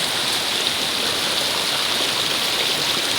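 Loud, constant rush of a swollen creek fed by rain runoff from higher ground, a dense roar with no breaks and no talking.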